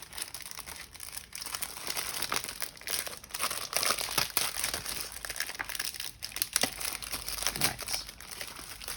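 Plastic packaging from charity shop finds is torn open by hand, giving continuous close crinkling and crackling with occasional sharper rips, steady and fairly quiet.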